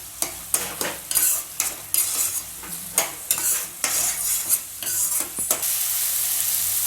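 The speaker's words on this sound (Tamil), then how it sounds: "நல்லா கிளறி விட்டுட்டே இருங்க." Tomato thokku sizzles and fries in a pan while a spoon stirs it, giving repeated scraping strokes over a steady sizzle that ends in a continuous fry.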